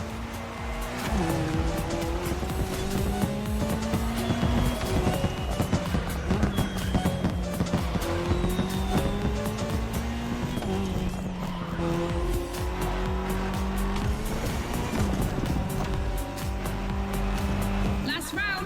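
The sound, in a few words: rally car engines racing in The Crew Motorfest video game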